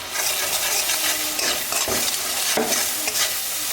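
Ground spices (garam masala, mixed masala, salt and a little sugar) sizzle steadily in a hot pan while being stirred and scraped, with several louder scraping strokes over a constant close frying hiss.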